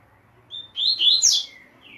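Coleiro, a double-collared seedeater, gives a short clear chirping phrase of a few bright rising and falling notes, close and fairly loud against a quiet background.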